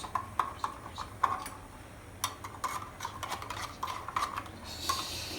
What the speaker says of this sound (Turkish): Sonra karıştırıyoruz.